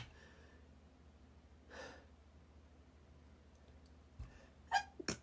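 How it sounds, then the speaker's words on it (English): A person's sneeze comes at the end: quiet breathing and a faint sigh give way to a sharp gasping inhale and a short, abrupt burst, fairly close and moderately loud. "I'm going to sneeze."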